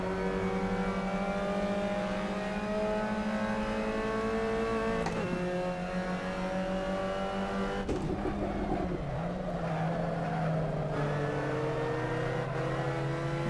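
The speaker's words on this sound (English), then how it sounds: "It even sounds convincing, like it sounds like a misfire." Race car engine in Assetto Corsa, simulated at Barcelona, droning steadily with a stuttering misfire, pitch shifting as it runs on and off throttle, alone with no talk.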